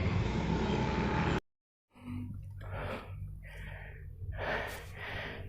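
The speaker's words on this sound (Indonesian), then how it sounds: "Di sini saya merasa cukup kecapean ya, kehabisan napas." An airsoft player out of breath during a skirmish, panting heavily in a series of loud, close gasps and exhales after a brief cut, over steady outdoor background noise.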